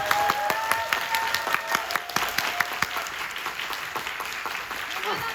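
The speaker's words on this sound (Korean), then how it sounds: "오늘 소개해 주신 두 분에게 큰 박수 부탁드립니다." An audience at a film screening event claps steadily, a crowd applauding for several seconds, with scattered voices underneath.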